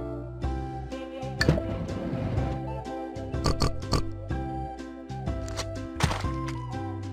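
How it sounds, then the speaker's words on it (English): Cartoon pig oinks from a children's animal-learning video game, short snorting grunts over a looping, bouncy game melody. "Pig."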